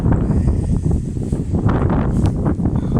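Strong wind buffets the microphone in a continuous loud rumbling roar with gusty surges, close and unbroken, no talk.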